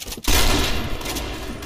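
Rapid automatic gunfire from the Point Blank shooter game, a dense sustained burst of shots that starts after a brief pause and keeps going, loud and close with no talking.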